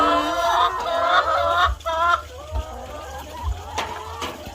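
Hens at a chicken farm cluck in a busy, overlapping chorus, close and fairly loud, with a few sharper calls rising above the steady chatter.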